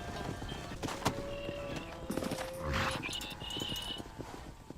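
Horse hooves clopping in the Red Dead Redemption video game, a steady busy clatter of hoofbeats under ambient game sound with faint tonal music, continuous and moderately loud throughout.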